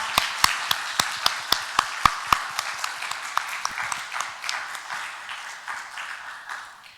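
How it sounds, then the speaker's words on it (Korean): Applause in a Korean church service: sharp, evenly spaced hand claps from a few people at first, then thickening into a softer mass of clapping that gradually fades. "우리 박수로 함께 감사를 표현하겠습니다"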